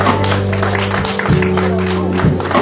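Audience applause for a band at a music therapy event, moderate clapping mixed with a held musical tone and some voices underneath.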